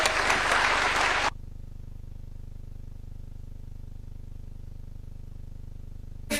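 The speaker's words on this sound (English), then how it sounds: "Please give him a round of applause." Applause from an audience at a youth summit, a dense burst of clapping for a little over a second that stops abruptly, leaving a quiet room hum.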